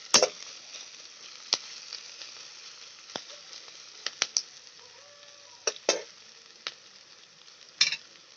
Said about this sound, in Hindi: तो देखंतु एबे प्याज नाली ही गलानी